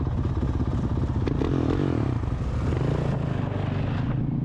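A Honda Navi motorbike is ridden, its small engine running steadily and close up with a throbbing drone and some wind buffeting throughout, no one speaking.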